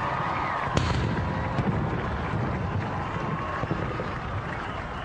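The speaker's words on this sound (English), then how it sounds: "There's the cannons firing over the Capitol Mall." Ceremonial cannons fire over the Capitol Mall at a presidential swearing-in, heard as a few distant booms over a steady roar of a large outdoor crowd.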